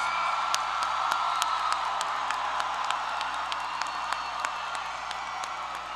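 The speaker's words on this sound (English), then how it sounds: "please give one more round of applause for the class of 2026" A crowd at a high school graduation ceremony applauds and cheers, with sustained clapping, scattered whoops and distinct sharp claps standing out, heard from a moderate distance in a large reverberant space.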